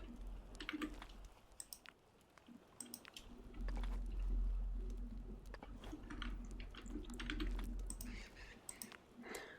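Fingers type on a mechanical keyboard with thocky, non-clicky switches and no wrist rest, a quiet, uneven patter of soft keystrokes over a low background hum.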